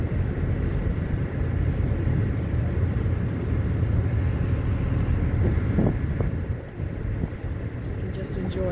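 The Madeline Island ferry's motor gives a low, steady rumble that runs throughout, mixed with wind buffeting on the microphone.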